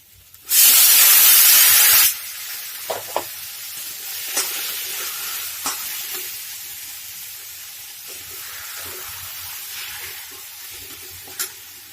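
A loud burst of sizzling as boiled mung dal hits frying potatoes in a hot pan, settling into a quieter crackle with occasional pops and scraping stirs.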